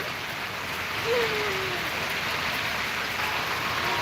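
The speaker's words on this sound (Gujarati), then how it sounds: "ધમાધમ વરસાદ ચાલી રહ્યો" Steady, dense downpour of heavy rain hissing continuously throughout, close and loud, with a brief faint tonal sound partway through.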